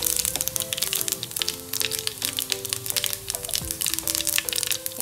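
Cumin seeds crackle in hot oil with mustard seeds already in the pan for an Onam koottucurry, a dense, steady popping and crackling that runs the whole time over a faint musical background.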